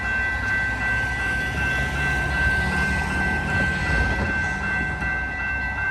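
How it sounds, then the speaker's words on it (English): A passenger train hauled by an MP40 locomotive rolls past a level crossing with a steady loud rumble and rail noise, a sustained horn tone held throughout. "Oh, and here comes the train."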